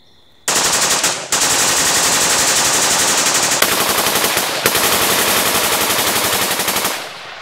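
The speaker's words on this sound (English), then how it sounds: "Let me show you what two AUGs can do." Two Steyr AUG A3 rifles fire long, rapid bursts of automatic fire, with loud, dense, continuous cracking and brief pauses between strings.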